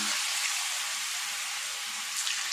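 Masala-coated elephant foot yam frying in oil in a kadai over medium heat, a steady soft sizzle that stays even throughout with nothing else over it.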